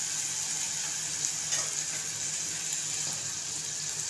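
Onions frying in a pan for a cauliflower and potato curry, a steady close sizzle throughout with occasional faint scraping and no talk.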